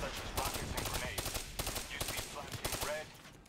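Sustained automatic gunfire in the video game Black Ops 3, dense rapid bursts of shots continuing for several seconds, close and loud, with brief vocal sounds mixed in.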